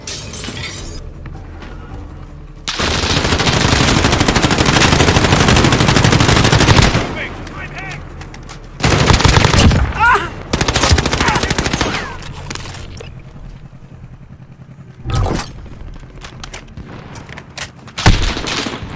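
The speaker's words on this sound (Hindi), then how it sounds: "ओए समवन इज शूटिंग" Call of Duty Modern Warfare Plunder match with long bursts of automatic gunfire and sharp single shots, loud and dense for several seconds, then further separate volleys, under a steady game background.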